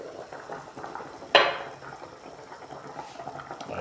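A metal pot lid lifts off a pot of boiling fish and tomato soup with a single bright clank, followed by soft bubbling and simmering sounds that continue quietly afterward.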